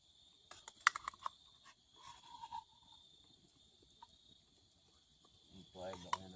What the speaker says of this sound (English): Always hear crickets later anyway.